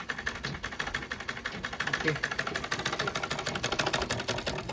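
A newly oiled domestic sewing machine runs smoothly while stitching cloth, a steady close rapid mechanical whirr with a fast even needle rhythm, continuous and fairly loud throughout.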